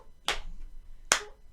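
Two sharp hand claps in a classroom body-percussion rhythm, close and crisp, spaced almost a second apart in a quiet room.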